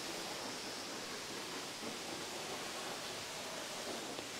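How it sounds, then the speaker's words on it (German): El Manto de la Virgen waterfall roars as a steady, dense broadband rush of falling water, continuous and loud throughout with no pauses or voices. "El Manto de la Virgen, so heißt dieser Wasserfall."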